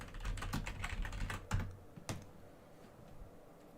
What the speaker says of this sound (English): I really gotta look when I'm typing.